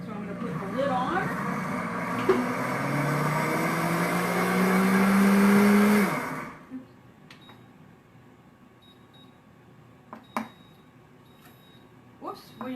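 A kitchen blender whirs loudly with smoothie ingredients inside for about six seconds, then cuts off abruptly, leaving quiet room sound with a few faint clicks.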